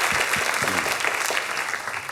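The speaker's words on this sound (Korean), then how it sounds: "박수로 한번 영광을 올려드리겠습니다." A packed church congregation in Daegu claps together during a Sunday afternoon service, a dense, even burst of applause filling the hall for a couple of seconds.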